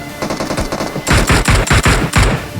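Rapid automatic gunfire in the mobile battle royale game BGMI during close-range building combat: a steady burst of sharp, loud shots, speeding up and growing louder after the first second.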